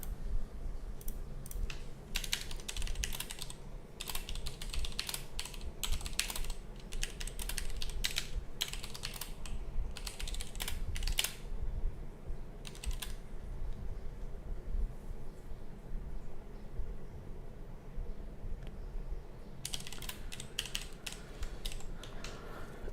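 Notes are typed on a computer keyboard in rapid bursts of close, crisp key clicks, pausing briefly in the middle and resuming near the end.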